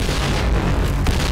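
A grenade goes off in the shooter Point Blank as a loud, broad boom that fills the brief moment with rumbling blast noise.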